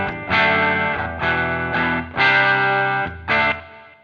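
Electric guitar played through a Foxx Tone Machine pedal and a Boss Katana amp on a fairly clean patch, with reverb and delay: four distorted chords strummed one after another, each ringing out and trailing off.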